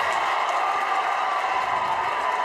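A home crowd at a high school boys basketball game, Fort Collins versus Fossil Ridge, cheers and roars in a sustained, dense wash of noise that stays loud throughout.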